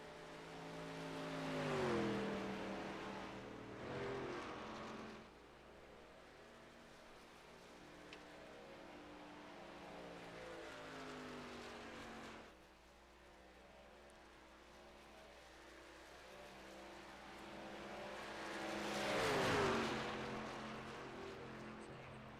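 Racing trucks in an esports racing video game roar past in turn, engines revving and rising then falling in pitch as each car sweeps by, with quieter stretches between passes.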